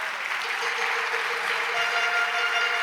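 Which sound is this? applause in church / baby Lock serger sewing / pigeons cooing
applause in church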